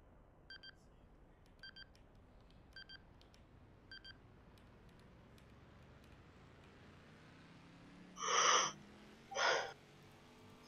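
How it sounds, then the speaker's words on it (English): Phone notification dings during a sim-racing feature race: four faint, evenly spaced short double beeps, then two louder, longer chimes close together near the end over a quiet background. "Stop dinging my phone."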